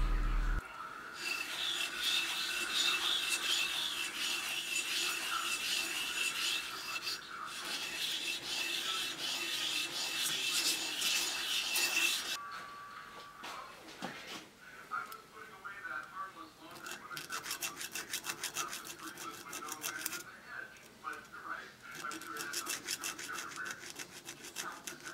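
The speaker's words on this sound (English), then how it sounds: "For this part I used 600 grit wet sandpaper for the bottom side and a small file for the top" 600 grit wet sandpaper and a small file smooth a homemade brass-style pinion gear for a fishing reel, giving close continuous rasping and rubbing strokes that shift in texture partway through.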